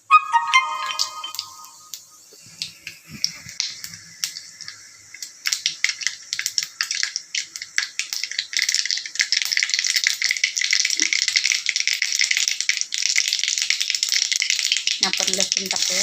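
Mustard seeds and cumin tossed into two spoons of hot oil in a pan for a yogurt kadhi set off a loud, bright sizzle with rapid popping crackles, steady and close after some early clatter and tones.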